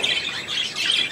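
An eagle at a bird of prey keeping calls in harsh, rasping squawks, a few rough bursts repeated close and fairly loud, with no talk over them.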